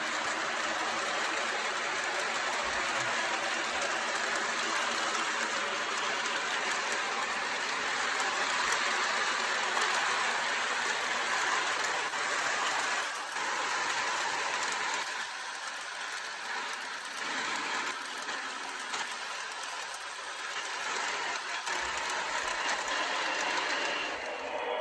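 A 20-year-old model train runs steadily along its track hauling a long, heavy train, giving a continuous close mechanical whir and rattling gear clatter with no talk.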